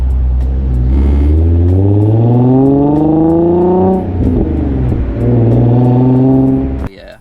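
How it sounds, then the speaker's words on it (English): The exhaust of a 2008 Infiniti G35S sedan with a VQ engine and six-speed manual revs up in two long rising pulls, loud and close, with a brief dip between them and a sharp cutoff at the end. "I feel like it's the best sounding exhaust."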